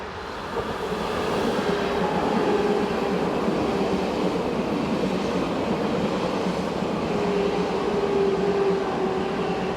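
A Swiss RABDe 500 tilting train coasts around a curve on the Gotthard south ramp, its steady rolling rumble and wheel hiss loud and close, with faint squealing tones, no voices.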